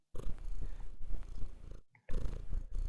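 A pet cat purrs close and loud in a continuous rumble, broken by a brief pause near the end before the purring picks up again.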